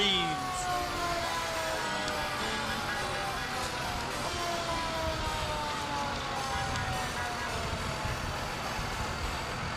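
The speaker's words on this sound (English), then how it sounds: "Heavy equipment and heavy sirens." Wailing emergency sirens sweep up and down over a dense rumble of heavy equipment engines and crowd noise at a downtown Hampton holiday parade, loud and continuous throughout.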